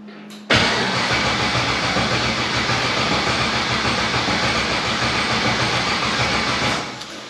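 A car engine cranks continuously without catching, a steady loud churning drone that starts abruptly and runs for about six seconds before tapering off, with no voices over it.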